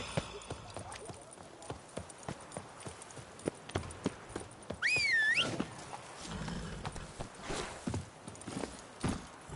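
Hooves clip-clop along a path in the Witcher 3 Blood and Wine tournament scene, a steady walking rhythm of distinct hoof strikes, with a brief whistle-like cry partway through and a voice speaking.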